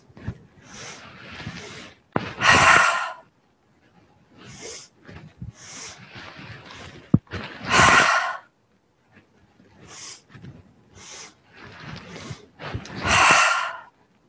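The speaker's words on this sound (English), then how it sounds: "breath of joy is that 3-part in-breath using the arm movement" Three rounds of the breath of joy exercise, a three-part in-breath paired with arm movements: quick stepped inhales build up before each loud, rushing exhale, separated by brief quiet.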